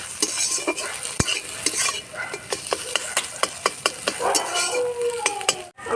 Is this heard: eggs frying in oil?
yes